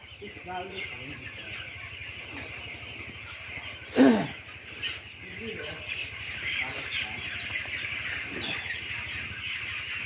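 Broiler chickens being raised on a poultry farm cluck and squawk steadily in the background, with one louder call standing out near the middle while people talk nearby.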